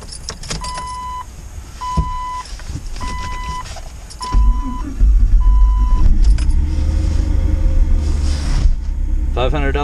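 A Jeep Cherokee starts up: keys jangle and a repeating warning chime sounds before the starter cranks and the engine catches into a loud, close, steady idle rumble.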